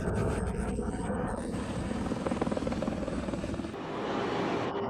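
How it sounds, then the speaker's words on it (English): A helicopter airlifts a sick or injured cow toward a veterinary center, its rotor wash and engine roar steady, loud and close throughout, with no talking. "If a cow is sick or injured, a helicopter is dispatched to take it to a veterinary center."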